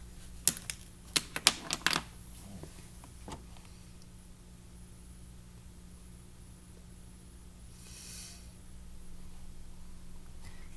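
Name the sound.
typing a search on a computer keyboard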